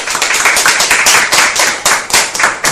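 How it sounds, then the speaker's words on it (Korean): Church congregation at a Sunday worship service clapping together, a close, lively burst of hand claps with an uneven, quick rhythm lasting a few seconds. "우리 경례의 박수 한번 하고 예배드리겠습니다."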